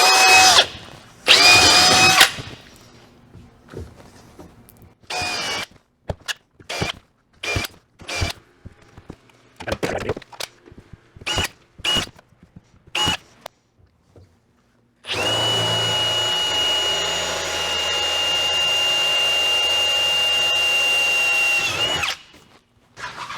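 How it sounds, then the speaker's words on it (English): Cordless power drill pre-drilling screw holes for a miter saw station stop block jig, heard as many short bursts of whirring followed by one long sustained drilling run, close and loud with no talking. "grabbing our drill to pre-drill these holes at first."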